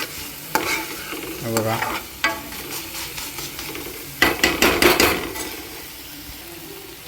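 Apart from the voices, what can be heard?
tomatoes frying and being stirred in a pan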